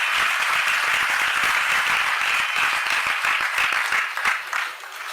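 Applause from a large audience at a religious discourse during the Paryushan festival, sustained dense clapping that thins out and fades near the end.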